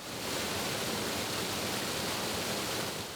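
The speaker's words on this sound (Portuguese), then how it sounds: "E o volume de água é tão grande que o som parece um trovão constante." Waterfall pouring through tunnels carved in mountain rock in an alpine valley, a steady, dense roar of rushing water that holds unbroken and loud throughout, like constant thunder.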